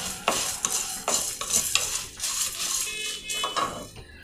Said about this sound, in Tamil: நல்லா செவக்க வறுத்துருங்கோ.